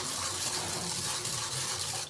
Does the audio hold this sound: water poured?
yes